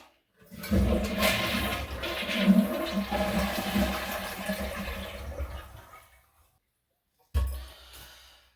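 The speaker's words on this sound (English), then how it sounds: "And then flush the toilet." A household toilet flushes close by after the water supply has been shut off: a loud rushing swirl lasting about five seconds fades out, followed by silence and a short gurgling burst.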